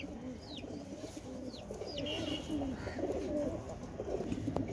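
A silver male pigeon coos softly nearby, low throaty rolling calls repeated over a steady background hum with a few faint higher chirps.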